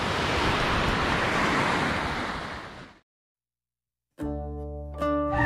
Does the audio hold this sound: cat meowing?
no